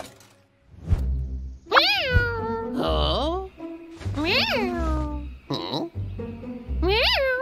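A cartoon cat meows repeatedly in high, sliding cries, loud and close, with short gaps between calls.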